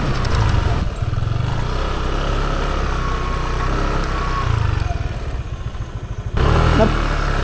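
Three motorcycles idling and running close by at a fishing spot in Barangay Putatan, a loud steady engine rumble with clattering, dipping briefly and then surging back.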